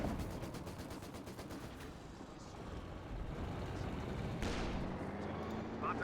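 A 6 pounder anti-tank gun firing in the game Company of Heroes 2, heavy booming shots amid a dense, rumbling battle din of engines and rattling fire, with a sharp report near the end.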